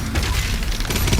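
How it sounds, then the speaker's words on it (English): A BFG fired in Doom on the Mars Core level: one loud, dense roaring blast filling the whole moment, close and alone with no voice. "here I just fire off a BFG"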